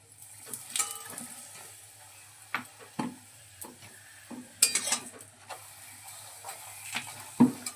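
A paratha flatbread frying in a little oil in a pan, with a soft sizzle under scattered sharp taps and scrapes of a utensil against the pan, with no talking.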